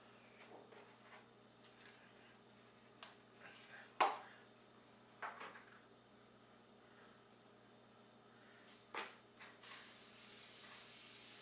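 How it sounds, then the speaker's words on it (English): Non-stick cooking spray is misted onto a pan before cooking eggs, heard as a few faint, brief hissing bursts against a quiet room. "Now let's spray the pan."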